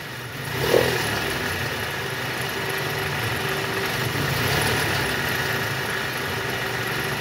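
A Toyota Camry XV40 engine that runs rough and makes a snoring noise is revved in neutral, giving a steady mid-pitched engine drone with a brief rise near the start and a gentle swell later.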